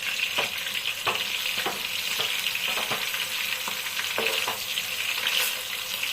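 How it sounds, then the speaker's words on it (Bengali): Large pieces of ilish (hilsa) fish sizzling steadily in hot oil, with soft scraping and tapping as the pieces are turned over one by one in the pan. "মাছটা আমি বেশি কড়া করে তো ভাজবো না, এক পিঠটা হয়ে গেছে। এখন এই যে এক এক করে সব আমি উল্টিয়ে দেবো।"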